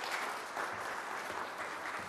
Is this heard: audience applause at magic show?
yes